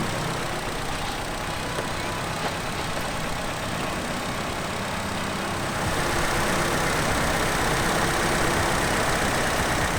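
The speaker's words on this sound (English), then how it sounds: "Let me start it up so you guys can hear the motor." A Nissan Silvia S14 engine runs at a steady, close idle that grows noticeably louder and fuller partway through.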